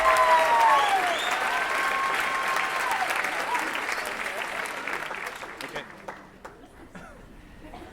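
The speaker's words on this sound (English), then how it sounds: "Round of applause for Jamie and Riley, please." A large audience applauds at a celebration event in a Vancouver theatre, loud sustained clapping with cheers and whistles that fades out toward the end, with people talking underneath.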